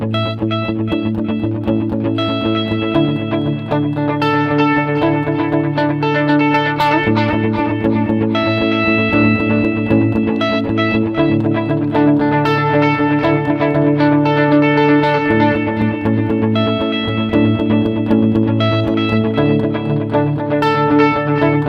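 An electric guitar with a heavy echo effect rings out sustained, layered chords and repeating delayed notes, loud and continuous with a reverberant wash and no talking.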